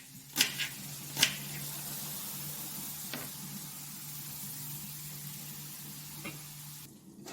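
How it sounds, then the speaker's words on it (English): Onion, celery and leek stir frying in a pan, a soft steady sizzle broken by a few sharp clanks and scrapes of the utensil, quiet and close with no talking. "we'll add the tomatoes to the onion that we have been stir frying"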